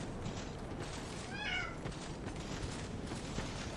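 Pet cat Jonesy lets out one brief meow midway through, fairly faint against a steady background hiss, with no voices.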